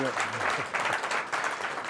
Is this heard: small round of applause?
yes